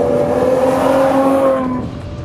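Ferrari 812 Superfast with its 800 hp V12 engine, a loud, close, sustained engine note holding steady tones for about a second and a half before easing off, with no talking.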